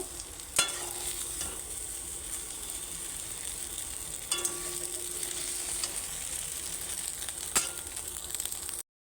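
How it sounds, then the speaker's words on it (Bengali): Beaten eggs frying for an omelette in a hot wok: a continuous even sizzle with three sharp clicks of a spatula against the metal, close and moderately loud, no one speaking. "আমি এখন ডিম একটা একটা করে ভাজবো"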